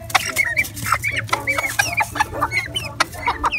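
Young chickens in a coop cluck and chatter in quick, overlapping bursts nearby, over a low steady background hum.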